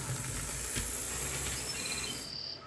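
An Athearn SDP40 Blue Box model locomotive runs at speed on track, a continuous whirring motor hiss with faint rail clatter, close and steady before easing off near the end.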